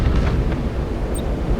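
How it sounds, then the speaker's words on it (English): A Nova cannon fires in the space strategy game Battlefleet Gothic: Armada, a loud, sustained rumbling blast with broad low-end roar and no speech over it. "I want to have this Nova cannon shot"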